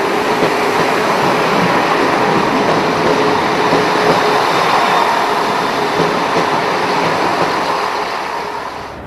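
A British Rail Class 166 diesel multiple unit arrives at a station platform, a loud, steady roar of engine and wheels on rail that holds for several seconds before easing slightly at the end.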